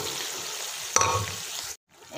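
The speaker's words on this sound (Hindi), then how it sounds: "अब इसमें जो छोले हमने बॉईल करके रखा था वो डाल दे रहे हैं" Boiled chickpeas dropped into hot oily masala in a pan, a steady frying sizzle with a sharp clatter as they land, then a brief cut to near silence before the sizzle returns.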